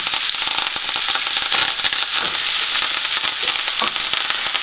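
Butter with thyme sizzles loudly and steadily in a hot pan, a dense crackling hiss with no gaps and no talk over it.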